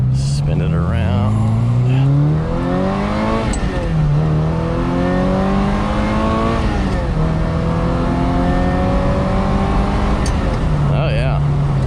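A 1994 Ferrari 348 Spider engine revs hard while driving, loud and close, climbing through several gears with rising sweeps and brief drops at each shift, then settling back to a lower note.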